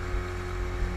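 A mini motorboat runs on water, its engine a steady, close droning hum with constant rumble and no pauses.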